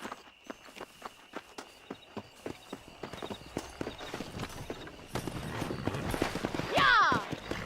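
Horse hooves clop in the Red Dead Redemption video game near the town of Armadillo, starting at an even pace and quickening and thickening toward the end, where a horse briefly whinnies.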